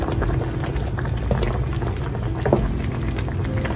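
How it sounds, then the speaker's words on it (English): Honey dijon mustard sauce simmering in a pot, a continuous bubbling with scattered soft pops, close and steady throughout. "I'm gonna let this simmer for about 20 minutes."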